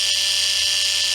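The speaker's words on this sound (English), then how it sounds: "You're talking about a little tiny motor." Adam's Polishes cordless micro polisher, a small battery-powered motor, runs with a steady high-pitched whine, close and continuous with no speech.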